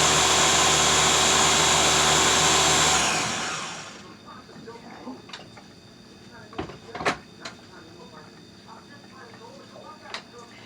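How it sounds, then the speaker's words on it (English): A blender purees sauce ingredients with a loud, steady whir for about three seconds, then cuts off, leaving faint clicks and handling noises. "you want to blend it till it's a puree."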